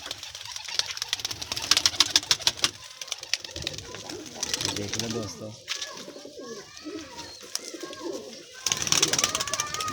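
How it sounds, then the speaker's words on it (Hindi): Pet pigeons coo repeatedly in a loft, soft throaty calls mixed with wing flutters and bird activity, while someone speaks over them nearby. "माशाल्लाह देखें, सारे कबूतर एक्टिव"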